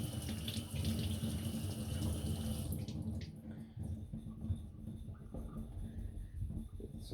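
Water runs steadily from a tap for sharpening a knife on a whetstone, a loud broad rush that cuts off after about three seconds, leaving softer trickling and handling noise.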